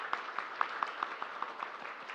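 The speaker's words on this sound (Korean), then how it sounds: "우리가 박수로 환영하겠습니다" A church congregation applauds during a Sunday morning service to welcome a newly registered member, a steady patter of claps with a few sharper individual hits, moderately distant and fairly soft, with no talk over it.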